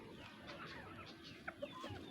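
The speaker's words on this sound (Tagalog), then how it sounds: "Oh, yung mga inahin natin dyan." Soft, scattered clucks from a few laying hens near their egg-laying coop over a low outdoor background, quiet and somewhat distant.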